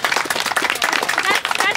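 A room of players at a summer volleyball tournament claps for a team, brisk dense applause close by, with cheering voices mixed in.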